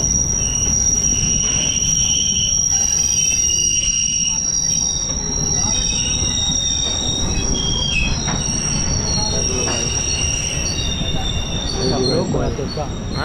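A coal-laden freight train rolls past near a railway station, with steady loud wheel rumble and a sustained high metallic squeal over clattering rail noise, and people talking faintly underneath.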